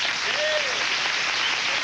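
A studio audience at a 1990 talk show applauds steadily through the whole moment, broad even clapping with a faint voice briefly rising beneath it.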